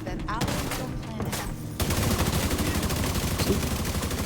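Gunfire fills a firefight in the video game The Division 2, with shotguns among the weapons: dense, rapid overlapping shots and blasts that grow louder and heavier partway through, with faint voices under the din.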